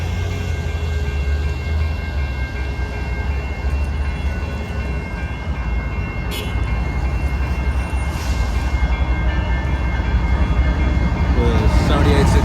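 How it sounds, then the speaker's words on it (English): A loaded coal train rolls past on Sublette Avenue, a continuous loud rumble and rattle of freight cars that grows slightly heavier toward the end, with a few faint scattered clanks. "it's that coal train I saw at the downtown."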